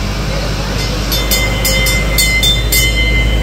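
Small tourist road train rolling through the streets of Valletta, Malta, a steady rumbling engine and rattle with intermittent high squeaks, heard close and continuous with people talking in the background.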